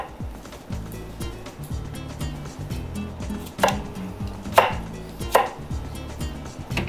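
A kitchen knife chops cucumber and myoga on a cutting board for a Japanese-style tartar sauce, a steady run of close, crisp knocks with a few louder strikes toward the end, no voices.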